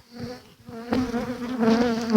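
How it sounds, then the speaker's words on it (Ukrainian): A young honeybee buzzes close by at a hive, its drone fluctuating and growing louder and more agitated toward the end. "це, мабуть, молода бджола, яка мене ще не знає просто. Тому так активно реагує"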